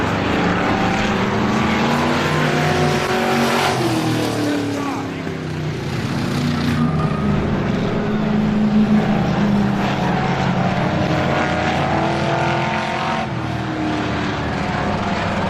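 Race cars roar around a short oval track late in an automobile race, a dense loud engine drone with passing surges, and a commentator's voice is partly audible beneath it.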